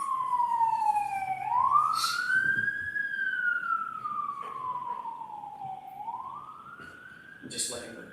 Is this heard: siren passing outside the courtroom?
yes